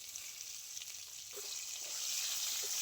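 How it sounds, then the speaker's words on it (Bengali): Raw mango pieces with a little salt frying in spiced oil, a bright hissing sizzle that swells and grows louder over a few seconds, with faint stirring knocks. "আমটা খুব ভালো করে ফড়নে কষিয়ে নেবো"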